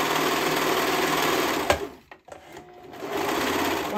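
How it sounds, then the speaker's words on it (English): A serger with cutting knives runs over a sweatshirt fabric edge, a loud continuous mechanical whir that briefly slows and drops out, then resumes at full speed. "I like to run over my serger with the knives, and then it just cuts it off"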